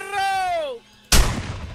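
A single sharp, loud gunshot in the video game Friday the 13th cracks out after a tonal whine that fades to brief silence, leaving a decaying echo behind it.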